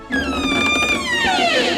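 A long, high-pitched door creak at night that slides downward in tone, loud and close, lasting under two seconds with no other sounds.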